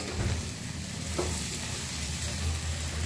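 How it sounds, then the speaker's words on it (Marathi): Okra and coriander being stirred in a hot pan, with a low steady sizzle and a few soft scrapes, close and continuous with no talking. "पुन्हा भेंडी आणि कोथिंबीर छान मिक्स करायचं आहे."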